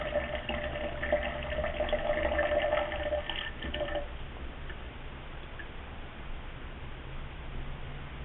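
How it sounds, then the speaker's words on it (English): Electrolyte trickles and splashes as it is poured into an ER50 WaterTorch machine for the first few seconds, then fades into a quiet hiss. "and watch the electrolyte go into the machine."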